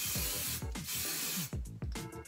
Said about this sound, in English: We're bringing out the hairspray.